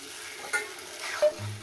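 Spice paste being sautéed in hot oil for a bhangan fish curry with potato and eggplant, a brief close sizzle broken by a couple of quick spatula scrapes against the pan; no talking.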